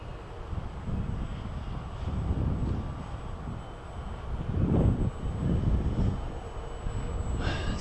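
Apprentice S 15e RC airplane in flight outdoors, its electric motor a steady, fairly distant drone that swells and fades as it passes, mixed with wind buffeting the microphone.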